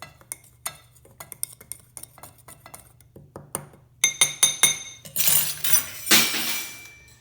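Dry flatbread ingredients, sorghum flour and baking soda, being mixed in a glass bowl: a spoon clinks and taps against the glass in scattered strikes, then scrapes and stirs faster and louder toward the end.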